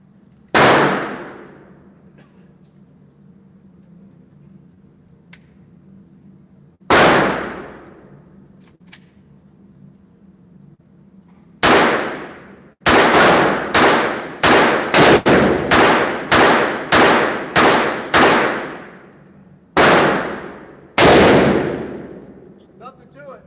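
A G44 rifle fires sharp, ringing shots: a few spaced single reports, then a rapid string of about nine shots in quick succession, ending with two more, each with a short metallic decay.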